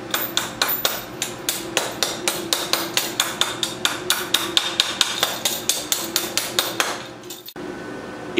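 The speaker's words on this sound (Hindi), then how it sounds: "वेल्डिंग करने के बाद थोड़ा सा आपने ये ऊपर से जो कार्बन लगी है उसे गिराना है" Hammer knocking carbon off a freshly welded snow tyre chain: a fast, steady run of about thirty sharp metallic taps with ringing highs, close and clear, ending abruptly before a brief quiet tail.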